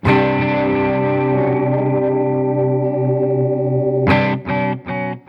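A sustained, distorted guitar chord wavers in pitch with a warbling modulation from an effects pedal, followed by three short, choppy strummed stabs near the end.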